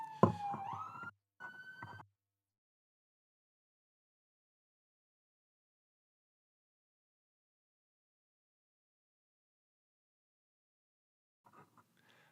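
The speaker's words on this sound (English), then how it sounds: "I swear they turned the siren off within 2 seconds of passing the house." A police siren wails briefly as it passes a house, rising and then breaking off within two seconds. Long silence follows, then a faint distant burst at the end.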